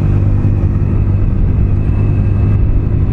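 A Hero Splendor motorcycle running on the road, its steady engine rumble loud and close throughout with no talking.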